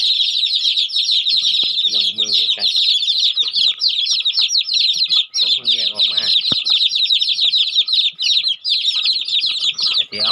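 Dense, continuous high peeping from a crowd of about thirty newborn chicks, just separated from the hen and kept in a mosquito-proof nursery cage, with occasional lower clucks and rustling beneath the steady chorus.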